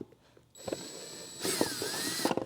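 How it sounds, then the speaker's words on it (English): A power drill with a step drill bit whirs up in short bursts, its high whine rising and falling as it grinds against metal deburring a hole, close by. "Best way to do that is take the step drill again"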